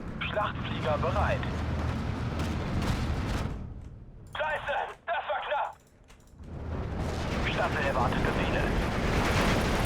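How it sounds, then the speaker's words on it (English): Stuka dive-bomber strikes in the Steel Division 2 World War II strategy game: sustained, dense rumbling explosions and blasts, easing briefly midway with a few sharp bursts before the heavy roar returns. "let's do some Stuka rounds"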